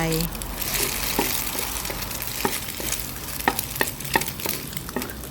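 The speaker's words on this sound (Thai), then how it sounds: "เราก็จะผัด ให้เข้ากับกระเทียมไปก่อนค่ะ" Egg is stir-fried with garlic in a hot pan, with continuous sizzling and repeated short scraping clicks from the spatula, fairly close.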